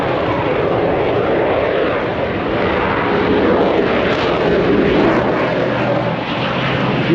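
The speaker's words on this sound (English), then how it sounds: "Listen to that sound of that engine, and then listen to it when he lights it up." Aircraft engine roaring at the Cessnock Air Show, a loud, continuous droning rumble that swells slightly in the middle, close and steady with no talk.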